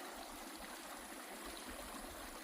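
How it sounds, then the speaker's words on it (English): A pleasant creek flows beside a trail in Yosemite, giving a steady, continuous rush and trickle of water that stays even and close throughout, with no voices. "creek here."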